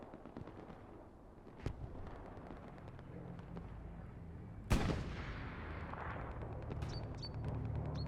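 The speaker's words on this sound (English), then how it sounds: "That is an allied bombing run on the bridge positions." An allied bombing run on bridge positions in a war video game: sustained rumbling gunfire and explosions, with one sharp blast midway and another near the start, all loud and continuous.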